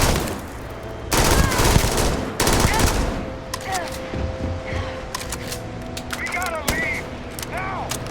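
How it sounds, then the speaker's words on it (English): Gunfire in the Starfield video game comes in loud, sharp bursts of rapid shots, first in two heavy volleys, then in scattered, quieter shots mixed with chirping electronic effects and some voices. "Open fire!"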